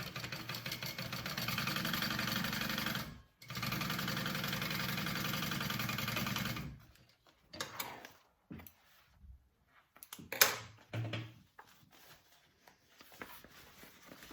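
A sewing machine stitches a seam at a 3/8 inch allowance on a Mini Swell bag, its motor whirring steadily for several seconds with one short break before stopping, followed by quieter handling noises.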